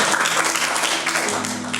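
Congregation applause during a Spanish-language Bible class on the Book of Isaiah, a brief burst of clapping with a low hum underneath.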